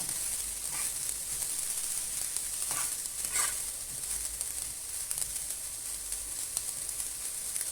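Boiled potatoes sizzle steadily in melted butter in a frying pan, a constant close hiss with faint crackles and no talk.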